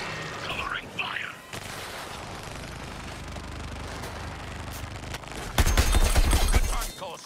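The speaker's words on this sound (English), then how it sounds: "Covering fire." Dense, continuous gunfire from the video game Suicide Squad: Kill the Justice League rattles throughout, swelling into a louder, heavier burst near the end, with soft voices murmuring faintly early on.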